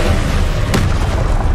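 In Hogwarts Legacy, a Confringo fire spell lands as a sharp, loud blast with a crack at its centre, set over a continuous low rumble of battle noise.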